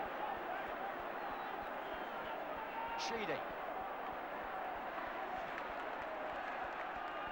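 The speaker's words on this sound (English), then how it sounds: "The ground is humming now as the crowd debate that" A packed football stadium crowd at an Everton versus Liverpool match murmurs and hums steadily at a distance, with a commentator speaking over the constant background noise.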